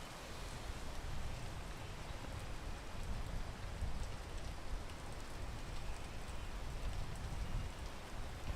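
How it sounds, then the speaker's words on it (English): Steady video game rain falls throughout, a constant dense hiss of drops pattering on surfaces, with no voices. "Rain, go away."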